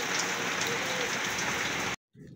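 Steady rain patters on a surface nearby on a wet laundry day, a dense even hiss that cuts off abruptly near the end.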